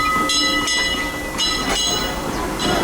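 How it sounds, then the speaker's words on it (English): A train rolls along with rhythmic clattering and steady rumble, bursts of high squeal and hiss recurring over a busy, loud background. "Time to hop on the train."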